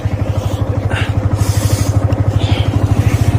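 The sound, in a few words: vehicle engine starting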